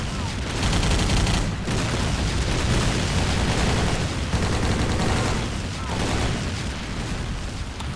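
Sustained machine gun fire from a video game level set on Wake Island, dense continuous bursts with booming explosions mixed in, loud and steady throughout with a brief lull partway.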